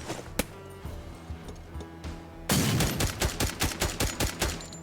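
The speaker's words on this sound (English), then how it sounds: "Frag out!" A frag grenade blast in the tactical shooter Door Kickers 2 erupts as a loud broadband burst, followed by a rapid run of sharp gunshots in a steady volley, after a few scattered earlier shots.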